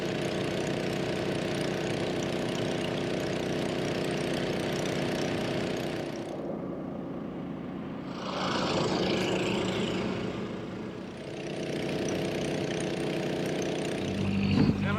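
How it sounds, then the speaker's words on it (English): A cable-driven salvage pump, its pump head and outlet set in a sunken yacht, runs with a steady engine-like drone that dips briefly and then carries on loud and continuous. "this pump's actually cable driven, so the pump head is in the boat as well as the outlet"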